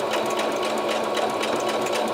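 Sewing machine stitching fabric for a key fob, running at a slow, steady pace with a continuous close-up mechanical whir and rapid needle clatter throughout.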